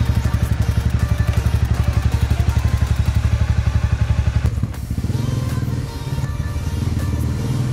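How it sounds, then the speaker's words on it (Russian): A motorcycle engine idling in a fast, even thump, then revving up and shifting into a rougher, louder roar as it rides off nearby. "сегодня Оля катается на мотоцикле"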